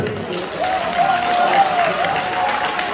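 Crowd at a Korean outdoor rally clapping after a speech, a broad patter of many hands that swells in the middle, with an amplified voice sustaining a tone over the applause.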